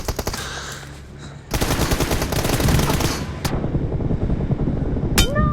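Rapid video game gunfire rattles in dense automatic bursts, quieter at first and then louder and sustained from about a second and a half onward, with a few sharper shots near the end.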